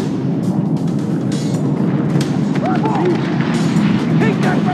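A grenade blast in Far Cry 3 rumbles low and heavy amid continuous booming combat noise, with shouted voices and scattered gunfire layered over the dense roar.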